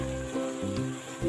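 Chicken semur, an Indonesian sweet soy stew with green chilies, bubbles and sizzles steadily in a pan, a dense close simmering hiss with soft pops and no talking.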